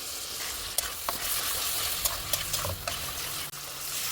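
Fish fried in masala with tomato slices in a pan, a steady close sizzle with occasional scrapes and clicks of stirring, no talk.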